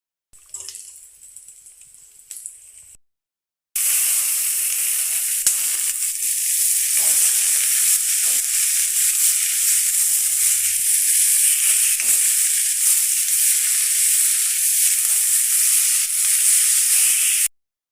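Washed coriander and mint leaves hit hot oil in a pan for coconut milk chicken curry, setting off a loud, steady, continuous sizzle that runs unbroken for about fourteen seconds after a short quieter opening and a brief gap.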